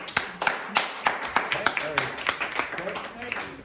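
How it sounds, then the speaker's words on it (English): Students in a classroom clap in a steady run of sharp hand claps lasting several seconds, with some talking mixed in underneath. "they're clapping"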